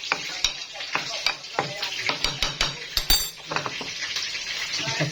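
Turmeric-dusted fish fries in hot oil in a pan, a steady sizzle punctuated by sharp clinks and scrapes of a utensil turning the pieces, close and clear.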